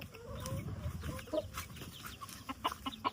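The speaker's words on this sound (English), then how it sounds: "Get the mama chickens and their little chickens." Mother hens and chicks cluck steadily at close range in an outdoor family yard in Jamaica, with repeated short clucks and soft peeps over a constant background bustle.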